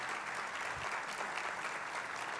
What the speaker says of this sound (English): big round of applause, Dave first